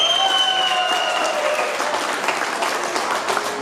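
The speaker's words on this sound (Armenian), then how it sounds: "միակ ծափահարենք նրանց։" Wedding guests applaud together in a steady, dense burst of clapping that fills the room. A held musical tone sounds faintly underneath at the start.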